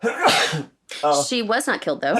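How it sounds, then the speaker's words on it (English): A person lets out one loud, close sneeze, a sharp burst, then a short silence before speech resumes. "I'm going to sneeze."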